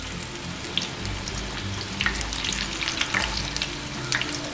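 Sweet corn vada made with rice flour fry in hot oil, a steady close sizzle and crackle with occasional sharper pops and faint stirring, continuous and without talk.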